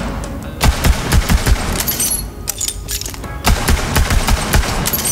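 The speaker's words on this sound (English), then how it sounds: "Got an interesting Jacob's pistol." A Jakobs pistol fires in Borderlands 3, a run of loud, punchy gunshots in an uneven rhythm with brief pauses, set over game background sound.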